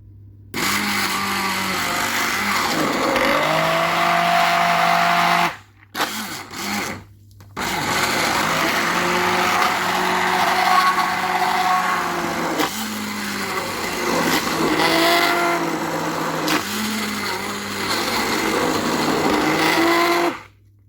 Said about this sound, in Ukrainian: І зараз я буду це все збивати ручним блендером.